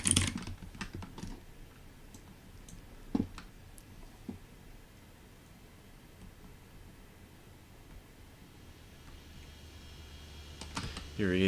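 Clicky mechanical keyboard typing: quick clusters of sharp key clicks at the start and again near the end, with a quiet stretch in between.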